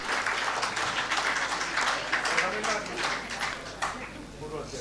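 An audience at the Chhattisgarhi Official Language Day event applauds, a dense, sustained crowd clapping that swells and slowly fades, with a voice speaking over it.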